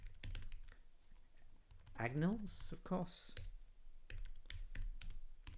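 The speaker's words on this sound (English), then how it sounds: "Yes, I'm going to work on my typing." Clicky typing on a computer keyboard while working on code, a steady run of light keystrokes near and clear, broken by a stretch where a person talks over it.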